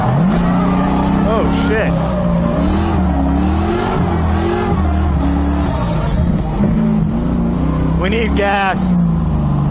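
A drift car's engine revs on a test pass at a drift event, its pitch rising and falling loudly throughout, while a voice talks over it.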